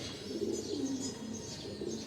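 Soft, steady cooing from pigeons in a loft holding twelve young squabs, a low rolling murmur with faint chirps over about two seconds, moderately quiet and without talk.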